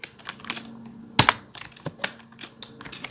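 Rapid keystrokes on a computer keyboard as code is typed, an irregular run of crisp clicks with a few louder key strikes, close and clear with no talking.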